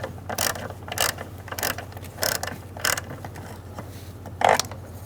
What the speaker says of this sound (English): Using a 13 millimeter socket, we're going to remove these two nuts holding the master cylinder to the vehicle.